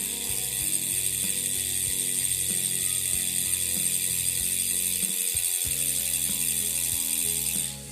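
A Pinarello X7 road bike freehub ratchets steadily, a close, continuous coarse clicking that runs without a break at an even rate and stays fairly gentle, with no voices.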